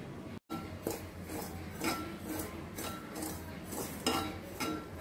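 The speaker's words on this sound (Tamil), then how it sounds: "நம்ம இப்போ ரவையை வறுப்போம் வாங்க" Dry broken wheat semolina scraped and stirred while roasting in a pan, with repeated metallic clinks and rasps of a spoon against the metal, steady and close.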